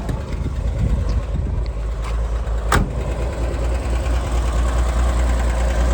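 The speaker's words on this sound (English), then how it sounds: "Starts right up like that every time." The flat engine of a 1965 Chevy Corvair Monza coupe idles steadily up close, a low, even burble with a brief sharp click partway through and no voices.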